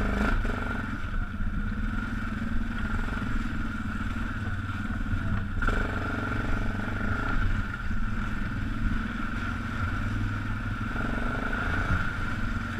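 A Yamaha Grizzly 660 ATV in four-wheel-drive low creeps over a frozen, muddy trail, its engine a steady low drone with rattling clatter, close and continuous with no talk.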